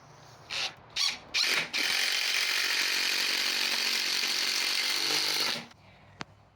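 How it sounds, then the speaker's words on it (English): A power drill drives screws into a wooden framework: three short whirring bursts, then one long continuous whine of about four seconds that stops abruptly, close and loud. "I'll screw together the framework here"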